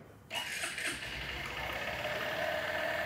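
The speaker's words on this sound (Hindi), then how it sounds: "यहाँ पर अगर मैं इस बाइक को स्टार्ट करता हूँ" A Honda Shine 100cc motorcycle engine starts with a sudden burst and settles into a steady, close idle hum that holds for a few seconds, with no talk over it.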